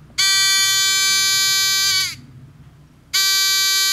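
A loud electronic buzzer sounds in a harsh, steady tone for about two seconds, pauses briefly, then starts again.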